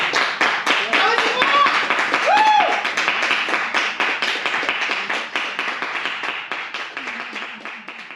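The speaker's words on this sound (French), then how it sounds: "c'est le moment, amis spectateurs, eh bien, d'applaudir bien fort Simon Barret" Spectators clap for Simon Barret as he arrives at the finish of the Bikingman AURA 2024 ultra-cycling race, a dense round of applause with voices calling out over it, fading slightly toward the end.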